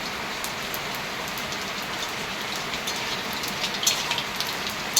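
Nigella seeds sizzling in hot oil as a tempering, a dense, steady crackling hiss with scattered small pops, close and without talk.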